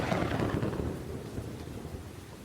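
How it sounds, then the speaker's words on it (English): A raging thunderstorm at Savannah, Tennessee, with heavy rain pouring steadily and deep rolling thunder rumbling loudly throughout, with no voices. "As a storm rages."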